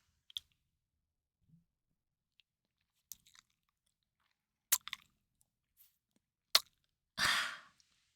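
Someone chews cookie dough close to the microphone in a quiet room, with sparse wet clicks and smacks spread over several seconds, then a brief louder breathy burst near the end.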